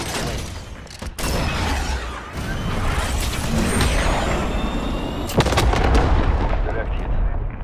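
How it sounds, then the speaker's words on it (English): A cruise missile launch in Call of Duty: Modern Warfare, with a sharp mechanical thump and whooshing rush over busy battlefield gunfire and clatter, a second hard crack following later. "Falcon 3-0, cruise missile away."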